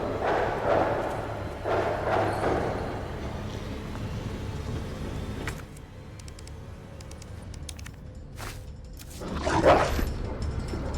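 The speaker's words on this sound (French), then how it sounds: "Mais il est super rapide le chien!" Zombie dog attacking in the Resident Evil 2 video game, heard as a few sharp snarls and bursts over a steady game ambience, with a louder hit near the end.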